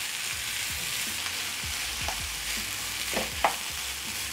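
A spatula stirs cabbage with vegetables in a frying pan, with soft scraping and tapping strokes over a steady close sizzle, and one sharper clink near the end.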